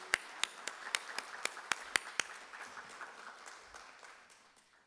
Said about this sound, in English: Let's give this institution a round of applause.